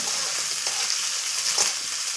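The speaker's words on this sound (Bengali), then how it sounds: "একবার সেই তেলেই দিয়ে দিলাম পেঁয়াজ ফোড়ন।" Sliced onions hit hot oil left from frying potatoes for a chicken karahi, making a loud, dense, close sizzle that crackles without a break.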